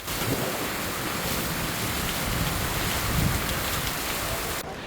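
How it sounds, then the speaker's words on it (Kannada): Heavy first-of-season downpour with a thunderstorm and strong gusting wind in Chikkaballapur, Karnataka: a loud, continuous roar of rain with deep rumbling underneath and surges of wind, unbroken until a sudden cut near the end. "ಬಿರುಗಾಳಿ ಸಹಿತ ಧಾರಾಕಾರ ಮಳೆ ಸುರಿದಿದ್ರಿಂದ ವಾಹನ ಸವಾರರು ಹೈರಾಣಾದ್ರು"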